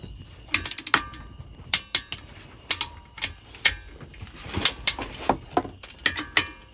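A ratchet clicks in quick bursts while tightening the head bolts on a Craftsman YT3000 lawn tractor engine during a rebuild, sharp close metallic clicks repeating in short irregular runs with pauses as it moves from bolt to bolt.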